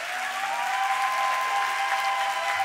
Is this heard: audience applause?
yes